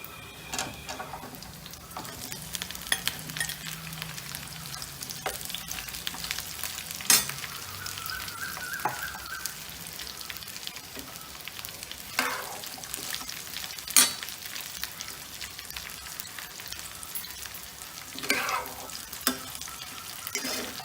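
Long-cut eggplant fries in a pan while being stirred for a vegetarian Indian dish. A soft, steady sizzle runs throughout, broken by occasional scrapes and light knocks of the spoon, all fairly quiet and close.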